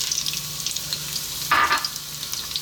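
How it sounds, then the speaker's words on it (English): Onion hitting hot oil with olives and garlic in a pan for prawn garlic chilli pasta, giving a faint steady sizzle that swells into a brief louder burst midway, with no talk. "We're gonna start off by dropping in our onion"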